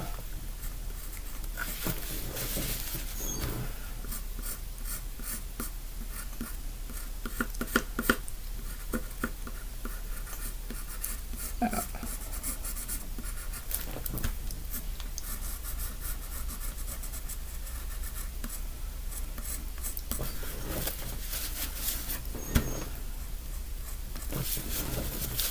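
Mont Marte oil pastels rub and scrape across paper in a drawing, with continuous soft scratchy strokes, faint taps and handling noises, close and fairly quiet throughout.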